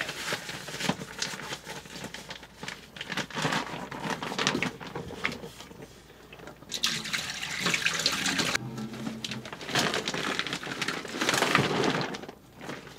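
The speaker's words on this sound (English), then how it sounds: "the next step is to dump it out and refill it with rinse water" Rinse water pours from a tap into a Scrubba wash bag, a splashing, rushing flow that swells and eases in bursts, with a brief lull midway, heard close up.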